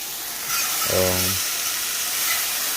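Plant-based butter hits a hot pan for black trumpet mushrooms, a steady hiss and sizzle rising at about half a second and continuing, with a brief tonal hum over it.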